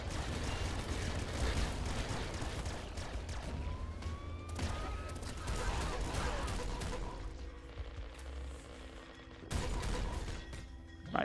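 Plasma shotgun blasts in the video game Nuclear Throne Ultra Mod, dense crackling bursts of energy fire layered with chaotic game effects, loud and continuous with brief dips and a renewed volley near the end.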